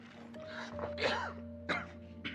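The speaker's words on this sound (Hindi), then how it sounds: "हाँ, थोड़ा खांसी है।" A few short, close coughs and throat-clearing sounds in quick succession, with a faint steady hum underneath.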